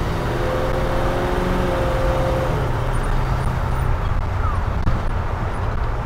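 A 1954 Ford F100 pickup with a 351 engine pulls away, its loud engine drone rising steadily as it accelerates, heard from inside the cab with constant road and wind roar.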